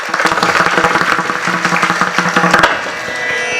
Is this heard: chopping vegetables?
no